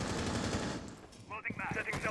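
Rapid automatic gunfire rattles in a Rainbow Six Siege esports match, dense bursts giving way to sharper, scattered shots near the end, with a commentator's voice faintly underneath.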